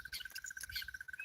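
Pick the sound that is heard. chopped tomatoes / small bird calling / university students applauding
small bird calling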